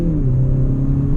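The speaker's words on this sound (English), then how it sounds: "to now start off in second gear, we'll accelerate a little bit" A Hyundai Veloster Turbo accelerates gently in second gear, heard from inside as a loud, steady low engine drone with a slowly rising whir and no speech.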